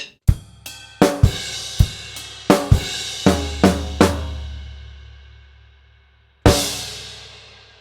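Drum kit playing the closing last line of a Trinity grade 3 drum piece, a run of punchy snare and bass drum hits with cymbal wash, a short pause, then a final loud crashing accent ringing out.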